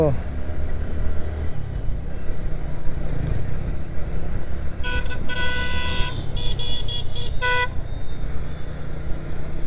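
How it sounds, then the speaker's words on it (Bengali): Busy road traffic of cars and motorbikes rumbles steadily on Eid day while car horns toot in a cluster of short honks partway through, with voices mixed into the noise. "ঈদের দিনেও কিন্তু প্রচুর পরিমাণে রাস্তাঘাটে গাড়ি ঘোড়া অনেক ভিড়ভাট্টা"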